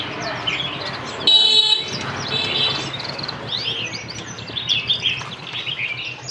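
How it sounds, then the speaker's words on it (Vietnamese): A pair of canaries sing at a caged-bird shop in the Van Phuc antique market, Ha Dong, with close, bright trills and rapid chirps and one brief loud buzzy burst, over a busy background murmur. "Còn đây là con hoàng yến đang hót này, hai con đang hót."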